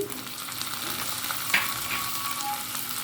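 Ginger and garlic paste is stirred into onions fried until light golden, a soft, even sizzle with a faint spatula scrape partway through, quiet and without speech.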